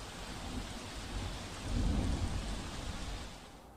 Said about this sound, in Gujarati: સુરતમાં મોડી રાતથી જ ધોધમાર વરસાદ જોવા મળી રહ્યો છે